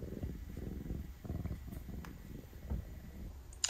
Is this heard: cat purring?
yes